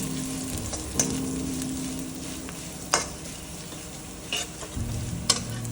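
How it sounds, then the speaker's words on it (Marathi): Sugar being sautéed in a pan for kothimbir vadi, a steady soft sizzle with a low frying drone and occasional sharp scrapes and taps of the stirring spoon against the pan. "थोडी साखर टाकायची परतून घ्यायची नंतर परतून घ्यायचं"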